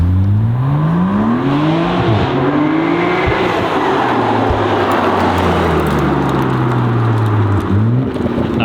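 A BMW M4 G82 fitted with a Valvetronic exhaust accelerates hard nearby, its engine note climbing through loud rising revs with brief dips at gear changes, a throaty growl with no voices over it.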